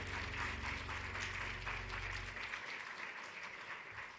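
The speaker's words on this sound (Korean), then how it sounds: "뜨겁게 사랑으로 축복하는 말 박수 쳐줍시다" A church congregation applauding together during a Sunday afternoon service, a dense steady clatter of many hands that fades away after a few seconds.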